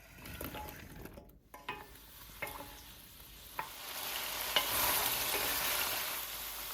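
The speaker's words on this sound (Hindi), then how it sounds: "तेज़ आंच पे टिंडों को 2 मिनट पकाना है।" Round gourds tossed into a hot pan with fennel and cumin seeds, frying over a high flame: a steady, soft sizzle with a few sharp spoon scrapes and clicks early on, swelling louder toward the end.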